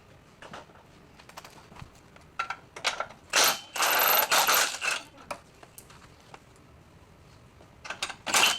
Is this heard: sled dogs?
no